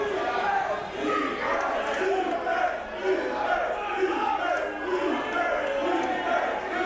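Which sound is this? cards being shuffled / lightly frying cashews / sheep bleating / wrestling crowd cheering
wrestling crowd cheering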